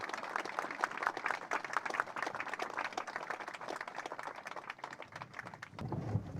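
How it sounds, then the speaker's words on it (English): Audience applause at a Naval Combat Demolition Units Scouts & Raiders monument park dedication ceremony, a fairly faint, even patter of many hands clapping that fades near the end. "Please join me in a round of applause for these leaders."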